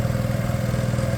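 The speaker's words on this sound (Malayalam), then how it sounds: "മോട്ടർ ഇട്ടിട്ടാണ് കേട്ടോ പോകുന്നത്" The motor of a small wooden country boat runs steadily, a close, even engine drone with a slight rhythmic chug and no voices.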